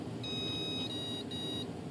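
A brushless motor ESC sounds a programming beep, steady high electronic tones with a short break partway through, clear and close over faint background hiss.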